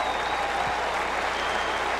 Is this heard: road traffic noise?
no